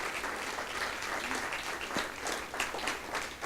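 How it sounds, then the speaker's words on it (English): A live audience at a spoken-word presentation claps steadily and densely throughout, a sustained wash of hands with no pauses. "I think Art for Justice deserves a big hand."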